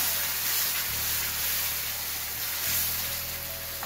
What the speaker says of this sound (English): Let's stir.